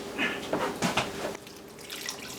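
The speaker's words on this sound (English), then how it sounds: "I'm going to add more water" Water is poured into a pot of ham bone bean soup, splashing and gurgling in a few uneven bursts before dropping to a quieter trickle and faint background noise.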